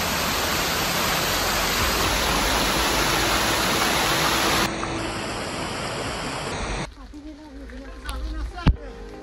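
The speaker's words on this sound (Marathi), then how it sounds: "मध्येच एक धबधबा होता, तिथे मी भिजलो" A waterfall along the walking trail at Kondana Caves, a loud, continuous rushing roar of falling water that drops away abruptly near the end.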